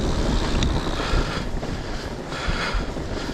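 Strong wind buffets the microphone on a groomed Nordic fat-biking trail, a loud broadband roar that rises and falls in gusts, with no voices.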